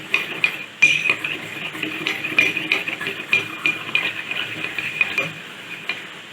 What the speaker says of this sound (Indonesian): Sambil kita aduk agar homogen ya, diaduk terus sampai homogen.